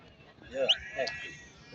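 Sheep bleat twice in quick succession at a livestock market in Barda, with a busy, murmuring crowd of voices and market noise underneath.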